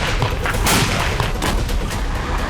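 Continuous rumbling din of war in Syria, with dense overlapping blasts, gunfire and artillery booms merging into a harsh, loud roar without clear gaps.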